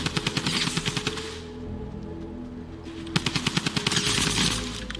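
Rapid, evenly spaced automatic bursts from the gold drum gun in Fortnite, loud and close, with two long strings of shots split by a short lull of low battle noise.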